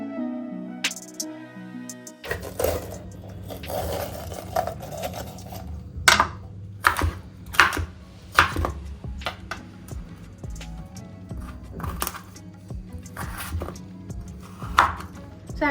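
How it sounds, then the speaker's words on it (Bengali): Vegetables are chopped on a board, sharp knife taps in an irregular rhythm heard up close over soft background music. "এখন এই ভেজিটেবলসগুলো ভালো করে কাট করে ধুয়ে রেখে দেবো"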